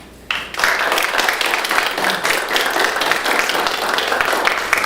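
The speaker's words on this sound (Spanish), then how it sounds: "Demos un fuerte aplauso a los miembros de esta mesa." A conference audience gives the legal panel members a strong round of applause, dense and steady clapping filling the hall from a sudden start.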